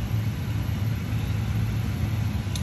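A freshly cleaned kitchen exhaust fan runs in a steady, loud, even drone with a low hum, unchanging throughout while oil heats for spaghetti meat sauce.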